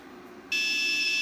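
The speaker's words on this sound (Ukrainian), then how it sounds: "Пищить, напевно, про розряд акумулятора, тому що дротики тонюсінькі." A Solatronics 2500 inverter under load, probably warning of a low battery, starts a sudden, piercing continuous beep after a quiet half second; the tone holds steady and loud to the end.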